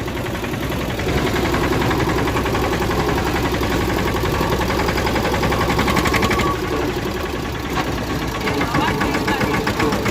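A tractor engine chugs slowly and steadily, close and loud, a rough knocking rumble that runs without a break the whole time.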